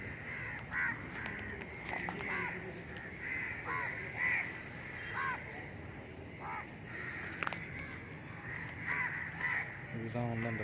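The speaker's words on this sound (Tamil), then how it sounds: "எவ்வளோ காக்கா இருக்குங்க." Many crows caw repeatedly at Pattinambakkam beach, with harsh calls overlapping at varying distances above a soft background hum and faint voices.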